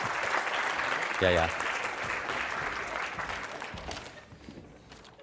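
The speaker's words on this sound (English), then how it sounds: "give him a round of applause" Audience applause for a volunteer at a live memory-training seminar, steady clapping throughout with a brief spoken word over it, fading near the end.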